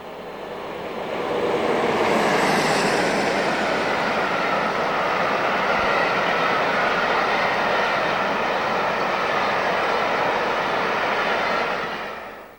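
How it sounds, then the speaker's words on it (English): A Class 47 diesel locomotive, No. 47635 in original parcels livery, hauls green Southern Region coaching stock on a circular excursion, giving a broad, steady rumble that rises quickly and holds loud for about ten seconds before easing off. "A Merrymaker circular trip from London saw the green Southern Region stock hauled by 47635 in original parcels livery"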